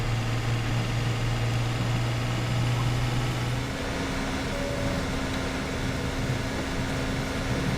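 A small open-cab garden tractor engine in Farming Simulator 17 hums steadily at idle, a low drone that shifts pitch partway through and continues evenly with no voices.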